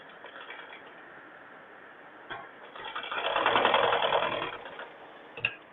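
A sewing machine stitches a blouse lining with a soft, rapid mechanical whirr, close and moderately loud, swelling for a couple of seconds before it slows and stops with a final click.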